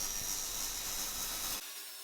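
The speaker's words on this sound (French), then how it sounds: "on prend un bout de bastin et puis on va se couper ça en longueur" An AEG TS250K table saw rips a piece of wood lengthwise, a loud, dense roaring whine of blade and motor running steadily, then dropping off sharply near the end.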